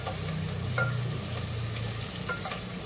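Long-sliced onions fry in a pan with a steady close sizzle, a few light utensil clicks and scrapes over it, and no voices.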